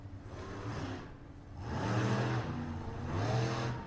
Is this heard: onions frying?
no